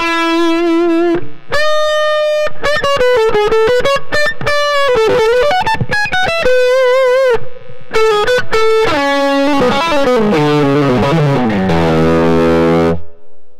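Electric guitar played through a Blackverb 88 amp on its overdrive channel, loud distorted single notes and bends followed by a run of heavy descending chords, played alone without talk.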